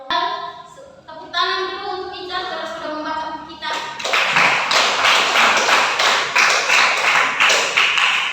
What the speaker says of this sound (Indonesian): Tepuk tangan dulu untuk Ica karena sudah membaca buku kita.